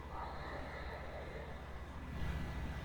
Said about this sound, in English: take a slow inhale through your nose